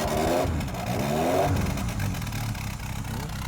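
A carburetted classic car engine runs at close range, rising in a clear rev and then settling back to a rough, steady idle with some mechanical clatter.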